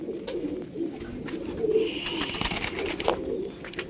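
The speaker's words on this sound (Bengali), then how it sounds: "একটু ছটফট করছে পায়রাগুলো দেখে নেবেন" A pair of young pigeons, one male and one female, coo close by with soft, repeated throaty calls, broken by short bursts of restless wing fluttering.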